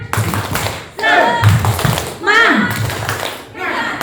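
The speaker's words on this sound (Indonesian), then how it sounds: "Kita ini yuk, tepuk semangat yuk." Rhythmic group clapping of a tepuk semangat chant by a roomful of people during a school training session at SMP 9 Palembang, clapping in bursts mixed with loud chanting voices.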